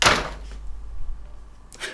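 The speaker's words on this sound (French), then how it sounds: "une porte qui claque," A door slams shut with a sharp, loud bang at the start, followed by a fading rumble and quiet room tone, then a softer second knock or rustle near the end.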